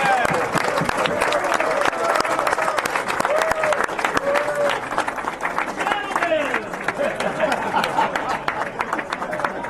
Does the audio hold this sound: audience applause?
yes